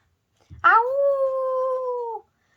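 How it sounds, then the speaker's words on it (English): A single sustained howl, like a coyote calling in the distance, rising sharply and then holding a long, steady, clear tone for about a second and a half before cutting off, with silence around it. "A coyote howled in the distance."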